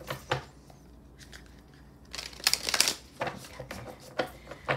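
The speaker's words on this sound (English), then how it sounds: "Let's give it one or two more shuffles," Tarot cards being shuffled in quick, crisp bursts of riffling and flicking, close up, with brief pauses between bursts.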